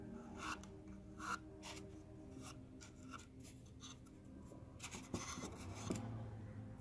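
A paintbrush wiping excess paint off miniature terrain stairs: quiet, close scratchy rubbing strokes in irregular short bursts, faint throughout with a few slightly louder brushes.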